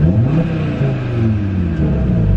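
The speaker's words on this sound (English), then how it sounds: "let's just give it a quick rev, see what it sounds like" A 2020 Audi RS Q3 Sportback in RS1 mode revs with its exhaust valves open, a loud, close engine roar whose pitch rises and falls over a deep rumble.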